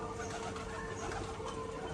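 Rajshahi pigeons coo softly in a loft, a faint, steady low murmur of cooing that continues without pause under a background hiss.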